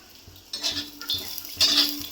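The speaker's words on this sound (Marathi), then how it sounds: "आता आपल्याला खोबरं पण भाजून घ्यायचं आहे बघा तांबूस रंगावर।" Dry coconut roasting in a lightly oiled pan, stirred with repeated scraping strokes and light metallic clinks of the utensil against the pan, close and clear, with no voices.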